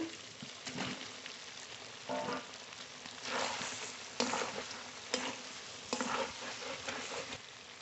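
Fried potatoes go into a pan of desi chicken curry being braised, with a steady sizzle and repeated bursts of stirring and scraping throughout, close and fairly quiet.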